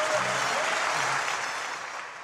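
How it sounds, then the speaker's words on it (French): Audience applause for a clown in a circus ring, a dense, sustained roar of clapping from a large crowd that holds steady and fades slightly toward the end. "un tonnerre d'applaudissements pour Monsieur"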